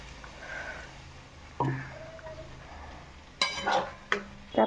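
Fresh spinach leaves go into a pan of frying masala for palak paneer and are stirred, making a soft sizzle under a few sharp scraping and clattering stirs, close up and without talk.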